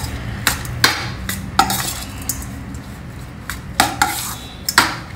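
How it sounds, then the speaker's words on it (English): Cooked rice is mixed by hand with sesame powder and salt in a metal vessel, giving sharp intermittent clinks and scrapes of a ladle against the pot, close and fairly loud, with no talk. "we can mix it all well together so that the sesame powder, salt and the rice get very well blended together"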